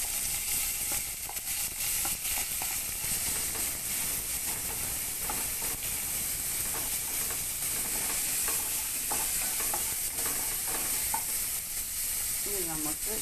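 Beans fry in a pan with a steady, dense sizzle and hiss that runs throughout, broken by frequent scraping stir strokes, close up and with no one talking.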